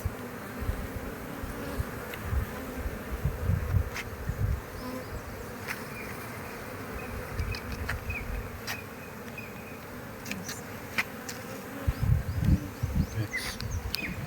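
Honey bees at a bee farm in Hatta hum in a dense, steady swarm close by, with occasional louder buzzes passing near and no talking.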